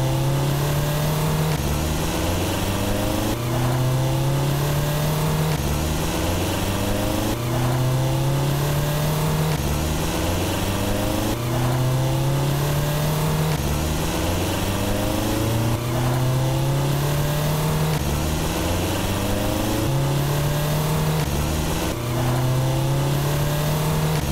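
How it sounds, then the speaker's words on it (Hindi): A car engine in GTA San Andreas drives along with steady loud revving, rising and falling through repeated gear climbs in a regular cycle, with no talk. "ये ड्राइव करो सीजे हमें ट्रेन के पास ले चलो जल्दी टाइम नहीं है"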